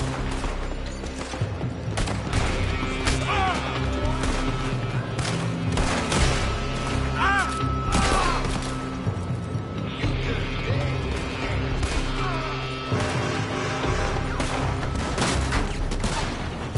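Sustained gunfire pours from a building in Red Dead Redemption 2, a dense crackling fusillade of overlapping shots with mechanical clatter running continuously under game ambience and music, no voices.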